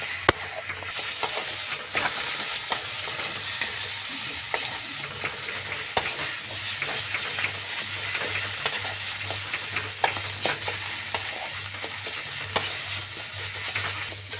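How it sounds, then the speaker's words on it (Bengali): Pumpkin leaves sizzling in a hot pan while being stirred and turned, a steady crackling fry broken by periodic sharp scraping knocks of the spatula, close and without talk. "ভালো করে নেড়ে ছেড়ে ভেজে নিতে হবে ভালো করে"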